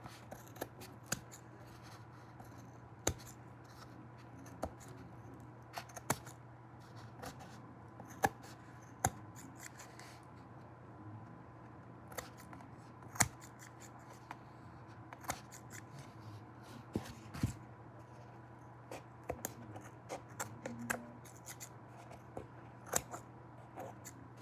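Quiet, sharp snips of scissors cutting felt repeat irregularly over a low steady hum, each cut a brief crisp click.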